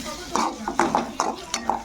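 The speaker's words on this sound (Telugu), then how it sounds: "ఇలా బాగా కలుపుకోవాలి" Spatula stirring egg and tomato in a frying pan while cooking egg rice, with a run of close, irregular scrapes and clinks against the pan over a soft sizzle.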